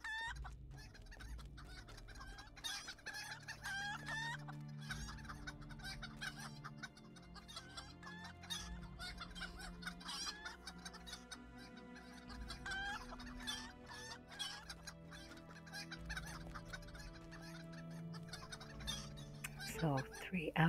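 Chickens in the video game LOTRO cluck steadily, a rapid string of repeated clucks over game music, with a crow near the end, close and moderately faint.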